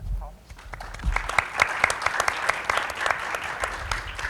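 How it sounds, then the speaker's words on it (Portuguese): Applause from the audience at a talk on artificial intelligence and world trade. Scattered claps begin after a brief voice, then swell into a steady round of clapping that continues to the end. "Vou só pedir uma salva de palmas."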